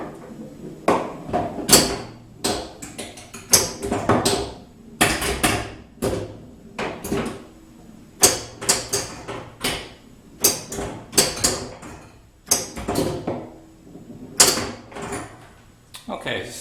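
An Arduino-controlled homemade pinball machine in play, with steady irregular clacks, thumps and flipper snaps repeating throughout, close and fairly loud.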